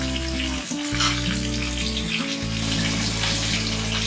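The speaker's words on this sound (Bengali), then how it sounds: "তরকারি ভালোভাবে ভাজা ভাজা করে নিচ্ছি" Meat curry fries in a pan on a home stove with a steady, dense hiss that runs without a break. A constant low mechanical hum sits underneath, and no one speaks.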